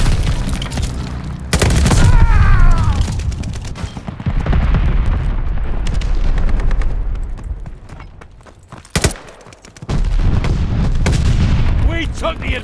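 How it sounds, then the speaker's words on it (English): Bombing run explosions in the Call of Duty: Vanguard team deathmatch game on PS5, heavy booming blasts and gunfire rolling loudly in bursts, with a brief drop before the barrage resumes. "Allies call the bombing run."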